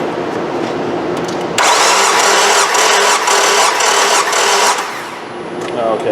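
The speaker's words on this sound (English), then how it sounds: "wide open throttle, crank it up, Des." A Nissan 2.5 engine cranks at wide open throttle for a compression test: a loud, steady, rhythmic churning of about three seconds cuts in after a quieter start, then fades back to background noise.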